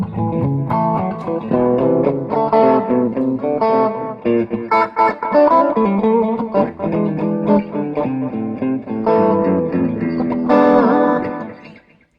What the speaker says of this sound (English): So that's your delay.